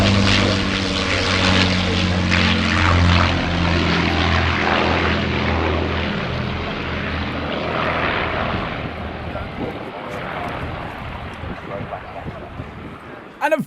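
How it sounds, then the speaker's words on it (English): A propeller-driven aircraft makes an evening flyby after an airshow, its engine drone loud and steady at first, then slowly fading as it passes into the distance. "on the Saturday night when everybody had departed, it did a sneaky flyby"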